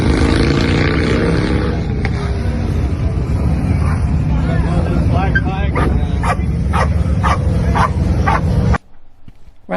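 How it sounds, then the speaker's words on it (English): Agitated dog barking in repeated sharp yips over a loud, constant background rumble, with talking mixed in; the barks come in a quick irregular run in the second half before the sound cuts out abruptly. "that dog is getting agitated"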